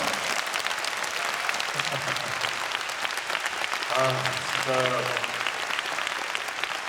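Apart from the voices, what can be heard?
concert audience applause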